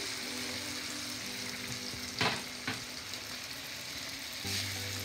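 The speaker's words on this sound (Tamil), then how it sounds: "சில்லி போட்டு மூடி வைக்க போறேன் வதங்குறதுக்கு" Chilli frying and sautéing in a pan for a Sri Lankan prawn curry, a steady close crackling sizzle with a couple of sharp stirring scrapes partway through.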